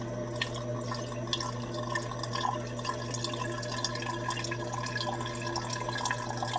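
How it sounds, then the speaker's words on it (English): Liquid pours slowly and steadily while gold is decanted after inquarting with silver, a continuous close trickle with small drips and splashes over a constant low mechanical hum. "slow and steady pour"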